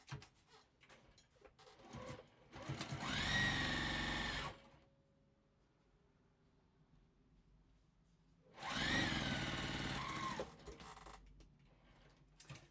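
A sewing machine stitches quilt block pieces for a crazy house quilt in two sustained runs of about two seconds each, with a quiet pause between them and no talking.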